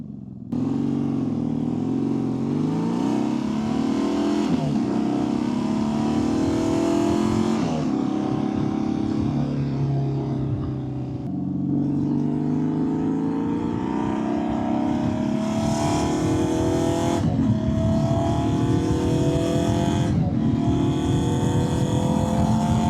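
A BMW R nineT motorcycle fitted with an Akrapovic exhaust, its valve closed, revs loud and close for the whole stretch in repeated rising and falling blips, the throttle swelling and dropping with a brief dip near the middle.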